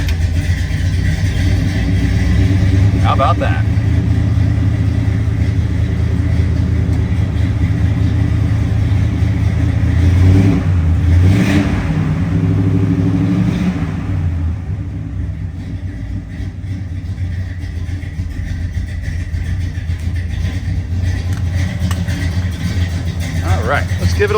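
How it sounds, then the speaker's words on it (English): A 1965 Pontiac LeMans GTO tribute with a tuned tri-carb setup and Flowmaster exhaust rumbles loudly and steadily after starting, with a rev swell in the middle, under a brief spoken remark. "I can't wait to fire this car up for you to hear it. Those Flowmasters sound so nice."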